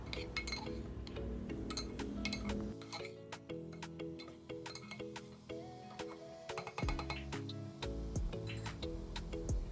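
A utensil stirs chopped tomato in a pressure cooker over a medium flame, giving repeated close metallic clinks and taps in an irregular rhythm with quiet sizzling underneath.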